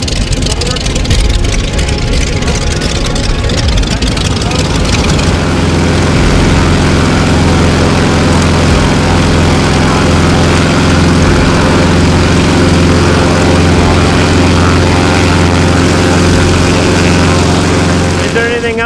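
A Yak 110 aircraft engine revs up to a full-power run-up, a loud, close, sustained propeller roar with a steady droning hum that builds after the first few seconds and holds, with faint voices partly buried beneath it.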